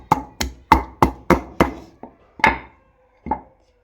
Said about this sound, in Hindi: अब ये पीसूंगी अदरक तड़का लगाने के लिए।